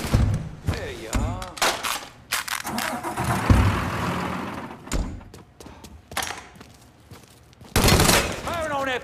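Gunfire bursts in the Mafia III video game, sharp broadband shots scattered across a busy game mix with engine and vehicle noise, a voice talking in short bursts between the shots.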